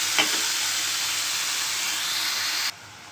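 Eggs frying with salt in a pan for egg garlic kaaram, a steady close sizzle and hiss with a brief clink early on, cutting off to near quiet at the end.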